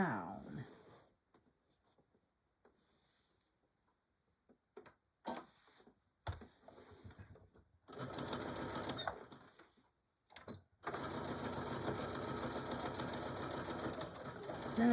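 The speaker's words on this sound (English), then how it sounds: "now we can sew the last piece down" Sewing machine stitching a Christmas table runner, starting and stopping in short bursts before running in a long steady whir, close up, with a few quiet clicks in between.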